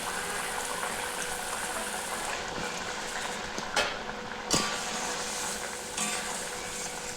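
Egg curry simmers in a pan over a gas flame, a soft steady bubbling hiss close by with a few small clinks and pops breaking through, no talk.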